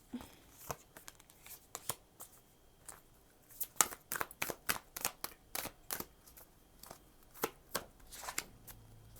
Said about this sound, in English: I'm going to pick one more card for you guys.